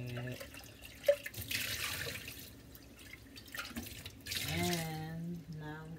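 Water from a kitchen tap runs and splashes as a container is rinsed out, with a brief clink near the start and a faint voice in the background.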